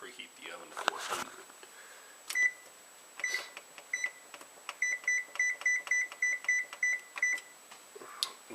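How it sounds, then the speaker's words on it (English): An oven control panel beeps repeatedly while being set to preheat to 400, a quick run of sharp, evenly spaced electronic tones, close and clear, after some faint handling noise. "So first thing I'm going to do is preheat the oven to 400."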